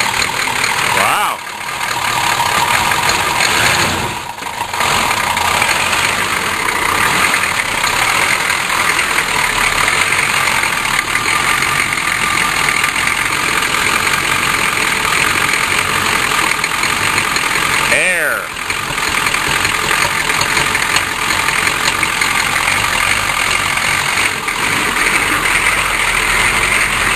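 A K5 Blazer truck engine idles steadily after starting, having sat for three months, a continuous close mechanical rumble running throughout with a brief dip near the start and another around eighteen seconds; voices may be present.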